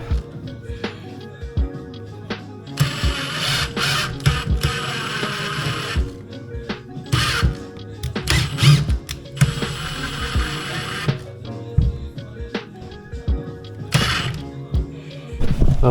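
Screws being driven into wooden workshop furniture, several bursts of whirring and ratcheting from a drill or driver, separated by clicks, handling knocks and quieter pauses.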